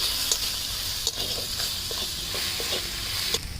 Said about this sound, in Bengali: এবার কাশ্মীরি লঙ্কার গুঁড়ো দিয়ে দিচ্ছি হলুদ গুঁড়ো দিয়ে দিচ্ছি এবার ভালো করে এটা নেড়ে নেব